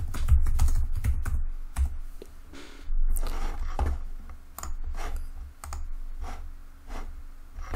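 Typing on a computer keyboard at a desk, with bursts of rapid close key clicks separated by short pauses, and no talking.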